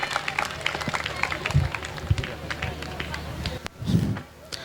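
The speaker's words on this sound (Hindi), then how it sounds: "एक और बार एक जोरदार ताली" An audience claps loudly at a school annual function, a dense, steady round of applause from a crowd in a hall, with some speech and babble mixed in.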